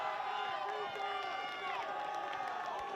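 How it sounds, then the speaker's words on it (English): Milford fans cheer at a high school soccer tournament game, a steady, moderately distant crowd roar with whoops and shouts rising and falling throughout. "this brings some more cheers from the Milford crowd"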